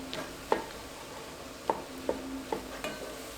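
Minced garlic stirred in a soup pot, a soft sizzle with a few light, separate scrapes and taps of the spoon against the pot, quiet and close.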